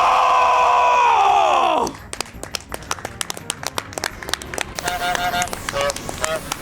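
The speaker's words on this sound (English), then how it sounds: "Yo, how loud can y'all cheer?" A live speedrunning marathon crowd, watching a Final Fantasy IX run, cheers and claps loudly with scattered shouts and sharp claps after a brief burst of music, the crowd noise swelling and staying dense to the end.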